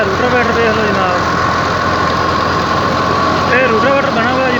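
An Alghazi tractor in second low gear runs with a 60-cutter rotavator working a potato field, giving a steady, close, loud engine drone with a whining harmonic tone throughout and no break in the sound.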